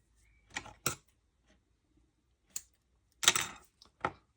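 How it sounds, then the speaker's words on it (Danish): Small piece of tape being put on while mounting parts, a few sharp dry clicks and crackles spaced irregularly over a quiet room, close and faint between bursts. "sætte et lille stykke tape på."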